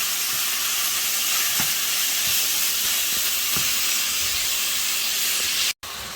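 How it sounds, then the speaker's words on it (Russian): Pieces of meat for Azerbaijani khingal fry in hot oil with a dense, continuous sizzling hiss that stays loud and even throughout, with a few faint knocks underneath and no voices. "мы мясо обжариваем с одной стороны, даем ему схватиться"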